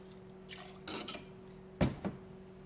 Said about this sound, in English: And a 2-ounce pour of whatever rum you want to use.